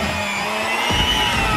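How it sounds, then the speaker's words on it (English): A power inverter runs aboard a sailboat, producing a steady dense electrical whine and hum with a rougher mechanical buzz kicking in partway through, continuous and close. "That's the sound of an inverter working."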